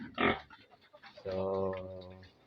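Pet pigs on a backyard farm, a short squeal followed by a sustained, loud, nasal grunting call close by.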